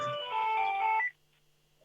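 A mobile phone rings with a bright, tonal electronic melody for about a second, then cuts off into near silence before a brief noise at the end.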